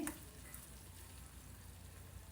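Tomato pieces fry in a pan with a steady, faint, continuous sizzle and crackle, close by and without any talking.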